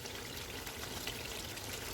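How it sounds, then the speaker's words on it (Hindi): Two cups of water poured into a pot of mutton korma after the onion and yogurt paste was fried, making a steady, even splashing rush that runs without a break. "2 कप पानी डालेंगे"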